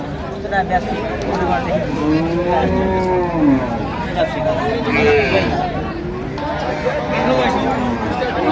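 Cattle low and moo repeatedly at a crowded livestock market in Jamalpur where cows and calves are being sold, long drawn calls rising over a steady babble of people talking nearby.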